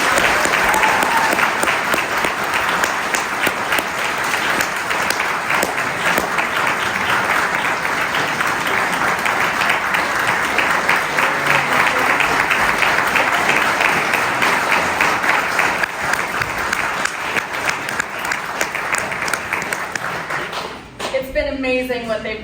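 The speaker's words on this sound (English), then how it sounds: "Can we give them a big round of applause?" Audience applause at a church assembly after a stage performance, a long, loud and sustained ovation of many hands clapping that fades near the end as a voice begins speaking.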